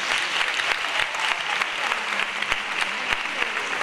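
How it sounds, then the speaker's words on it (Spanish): Steady, dense applause from a crowd at a sports awards gala, loud and continuous throughout with scattered sharp claps standing out. "Un fuerte aplauso para ella."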